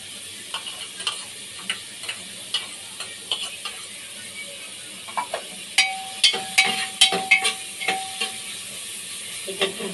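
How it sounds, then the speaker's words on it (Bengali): Chopped onion and garlic fry lightly in a little oil while being stirred, with a soft sizzle under regular scraping taps that grow busier and louder toward the end. "এটা একটু হালকা ভেজে নেবো, হালকা তেলে নেব।"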